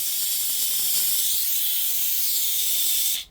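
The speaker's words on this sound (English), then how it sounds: "literally it kicks out some steam." A powerful car valeting steam cleaner blasts out a loud, continuous, close hiss of steam that cuts off abruptly at the end.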